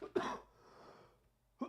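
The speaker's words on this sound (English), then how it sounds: "listening to me cough every 5 seconds" Two short, close coughs, one near the start and one at the end, from a man during a live Bitcoin market analysis stream, with quiet room noise between them.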